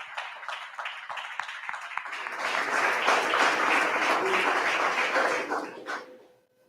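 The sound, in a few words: congregation applauding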